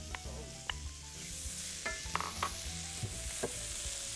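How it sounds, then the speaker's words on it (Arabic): A small onion goes into a frying pan that has just browned meat, giving a steady close sizzle with occasional stirring clatters and scrapes throughout. "في نفس المقلايه هنحط بصله. بصله صغيره."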